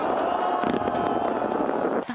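Fireworks at a North Korean New Year celebration, a dense, continuous crackle and rumble of bursts layered with crowd noise, loud throughout, then easing abruptly near the end.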